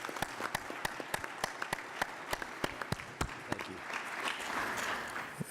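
Room applause at a conference on infrastructure financing for American cities: steady, fairly close clapping from an audience, dense and continuous with sharp individual claps standing out, swelling slightly toward the end.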